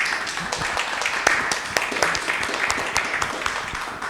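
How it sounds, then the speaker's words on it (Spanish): Audience applause at the close of a talk on good practices in forage reserves, a dense steady patter of many hands clapping with scattered sharper claps, moderately loud and continuous throughout. "les pido un fuerte aplauso para ellos"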